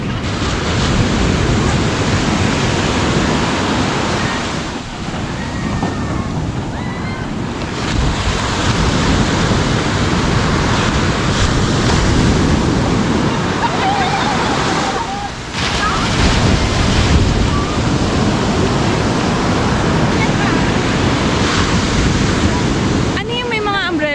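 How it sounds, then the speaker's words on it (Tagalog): Large ocean waves crash and wash continuously onto Sabang Beach in Baler, loud and roaring, with wind buffeting the microphone and faint voices of a crowd underneath. "Mas malaki alon dito."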